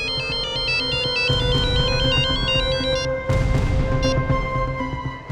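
A mobile phone's electronic ringtone chimes a looping melody, loud and close, with short pauses between phrases over a low background hum.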